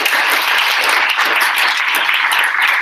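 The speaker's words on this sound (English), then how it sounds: "Let's give a huge round of applause to all of these projects" A roomful of people at a data science capstone showcase applauds, a dense, steady wash of clapping from a crowd, loud and even throughout with no talk over it.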